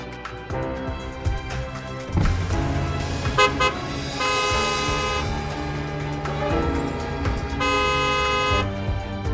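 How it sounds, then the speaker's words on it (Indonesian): Loud car horns honk repeatedly in long and short blasts over dense traffic and engine noise, with several horns overlapping. "Klakson apa lagi?"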